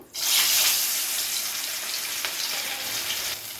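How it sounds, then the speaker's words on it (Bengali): Fish pieces hit smoking-hot mustard oil one by one, setting off a loud, steady, close-up hiss of frying that holds at full strength for several seconds, with no voices. "এবারে তেলের মধ্যে এক এক করে মাছগুলোকে দিয়ে মাছগুলো কিন্তু ভেজে ফেলবো।"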